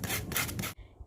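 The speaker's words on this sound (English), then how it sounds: "you need to smooth the edge by using sandpaper" Sandpaper rubbing a drilled wooden edge for a towel ladder, a steady close rasping scrape that stops abruptly, then near quiet.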